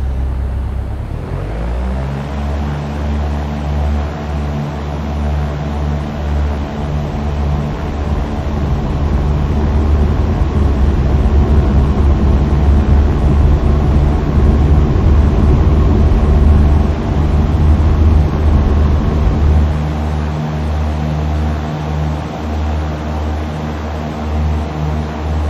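A Cessna 172 engine swells to full power for takeoff, a loud steady droning roar that builds in the first seconds and holds for the rest of the run.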